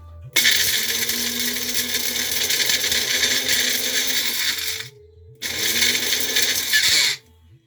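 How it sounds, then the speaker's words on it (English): A kitchen blender mixes chai spices in two loud, close whirring bursts, a long run and then a shorter one after a brief pause, with no talking over it. "Now we're going to give them a quick blend."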